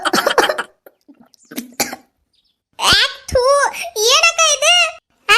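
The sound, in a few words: woman coughing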